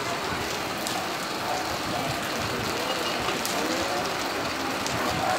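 Steady rain falls in the Pernambuco backlands at Custódia, a continuous even hiss of drops pattering on surfaces, loud and unbroken throughout with no voices.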